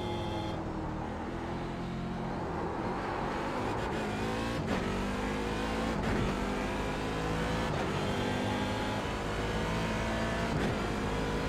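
Race car engine in the iRacing IMSA sim racing game, loud and steady, rising in pitch through each gear with sharp upshift breaks every couple of seconds and no talk.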